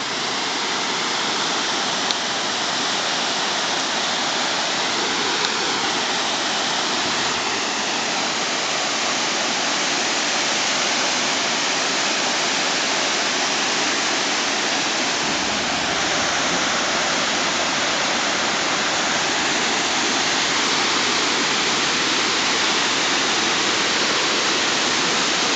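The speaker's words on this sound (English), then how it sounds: "Beaver Brook Falls." Beaver Brook Falls in New Hampshire's Great North Woods roars in a dense, unbroken rush of falling water, loud and close, steady throughout with no voices.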